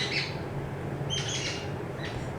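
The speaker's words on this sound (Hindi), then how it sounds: "मेरे खिड़की पे चिड़िया बोल रही है।" A bird chirps at a window, giving three short bright bursts of calls over a quiet background hum.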